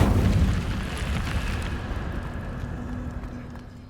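Casting the Incendio fire spell in Hogwarts Legacy releases a loud, roaring burst of flame that starts strong and slowly fades into a rumbling crackle over a few seconds.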